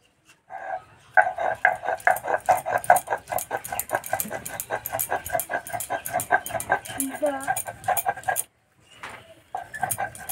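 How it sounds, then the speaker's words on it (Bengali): Soaked sun-dried rice ground by hand into paste for pitha, giving a steady run of close, rhythmic scraping strokes for several seconds, with a short pause and a few more strokes near the end. "প্রথমে চাল বেটে নেব।"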